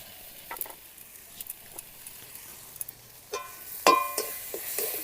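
Mustard and poppy seed paste with a little sugar fries in a pan while being stirred, soft intermittent scrapes and taps over a faint low sizzle, ending in a few louder spoon knocks.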